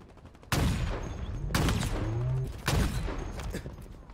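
Gunfire in the video game Halo Infinite: loud bursts of shots hit at about 0.5, 1.5 and 2.7 seconds, each trailing into a sustained rattling barrage that stays dense and close through the whole stretch.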